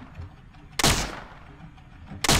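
Two loud, sharp gunshot blasts from the PC game Trespasser: Jurassic Park, about a second and a half apart, each with a short echoing tail over a low background rumble.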